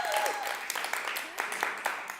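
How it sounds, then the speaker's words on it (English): Brief applause from a live audience at a love-stories event, soft and fairly distant, partly under a speaking voice and fading quickly. "Can we just give our audience a round of applause?"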